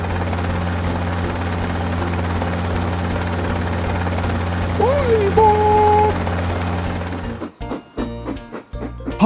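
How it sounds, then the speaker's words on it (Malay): A cartoon helicopter flies with a steady, loud rotor chop that runs for about seven seconds, with a brief whistling tone partway through, before giving way to sparse music-like sounds. "Lihat, ada helikopter sedang terbang."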